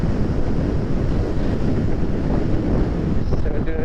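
Strong wind roars steadily into the microphone while a scooter speeds along a paved mountain road on the way to Pokhara in the Himalayas. The noise is loud, dense and buffeting throughout.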